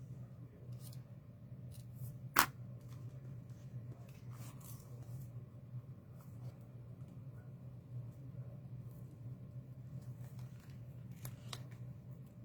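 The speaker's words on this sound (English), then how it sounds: "There's this ribbon that's got some sparkle in it. And let's just see what that looks like. I guess I can cut a piece." Scissors cut a piece of sparkly ribbon at a card-making table: a few quiet, crisp snips, one sharper and louder than the rest, over a low steady background hum.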